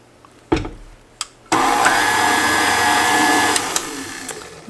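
An electric mixer whirs steadily through cookie dough after vanilla is added, beginning with a few short bumps before settling into a continuous loud drone that eases slightly toward the end.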